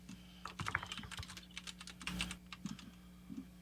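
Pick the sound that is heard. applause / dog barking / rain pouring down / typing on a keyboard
typing on a keyboard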